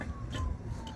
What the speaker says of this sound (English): Yeah, the sirens?